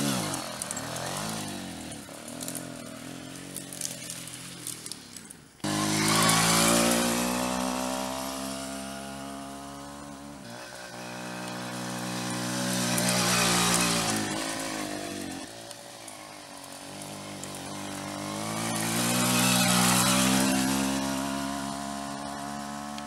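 A Puch Maxi 50cc moped engine runs continuously and close by, its buzzing pitch rising and falling as it revs up and eases off.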